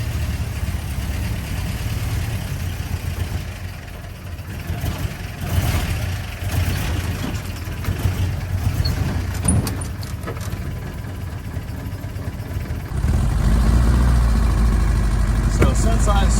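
A 1954 Willys Jeep CJ3B engine runs roughly while burning oil, a steady low rumble that grows louder and heavier near the end, with someone talking over it at times.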